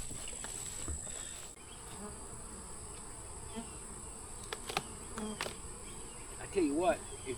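Honey bees buzz around hive supers outdoors, a continuous soft drone with individual bees passing close now and then and a brief louder buzz near the end, no talking.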